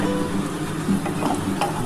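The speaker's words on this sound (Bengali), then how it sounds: "বড়িটা ভেজে নিচ্ছি।" Lentil dumplings (bori) frying in hot oil in a wok, a steady close sizzle with occasional light stirring scrapes and pops.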